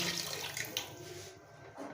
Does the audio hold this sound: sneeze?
no